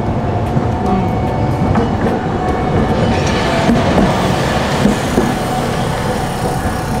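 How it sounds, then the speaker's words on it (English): A train in Japan rumbles steadily past close by, a continuous heavy roar with faint rhythmic clatter of wheels on the rails and no voices. "The train's going on behind me."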